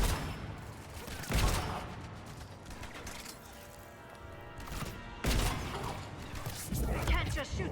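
Gunfire in the video game Mass Effect 3 comes as loud bursts and rapid shots with mechanical clatter, mixed with game sounds and voices.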